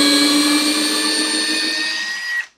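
A Makita 18V sub-compact cordless drill whirs at steady high speed, loud and close, then abruptly stops at the end.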